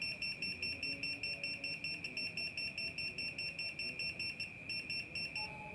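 A Hilda 3D 12-line laser level beeping because it is not level: a rapid, continuous electronic beeping pulsing steadily and evenly at close range, with no talking over it.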